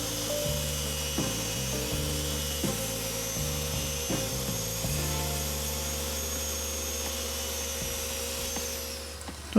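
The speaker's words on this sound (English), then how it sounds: "I'm power sanding here with an extension." Power sander with an extension working inside a narrow woodturned segmented mosaic wood vase, a steady high whirring motor drone with a constant pitch, close and loud, with brief shifts in tone as it bears on the wood, no talk.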